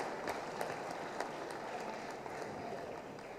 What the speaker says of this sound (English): Big clap for all of them, please.